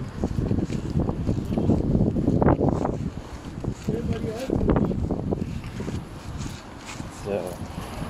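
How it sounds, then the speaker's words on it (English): Strong wind gusting outdoors on a street in Germany, roaring and buffeting the microphone in loud, uneven surges that rise and fall throughout. "yeah, it's windy."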